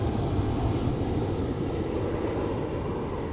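Ryanair airliner passing at Manchester Airport, a loud continuous low jet engine roar, fairly close and steady across the short stretch, no talk.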